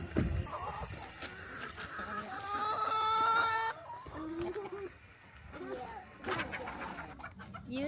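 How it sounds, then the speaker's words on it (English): Chickens cluck and squawk in a backyard coop in Arizona at dusk, a flock of about 150 birds calling in overlapping bursts close by, with people talking quietly in between. "So this is what it's like to have chickens."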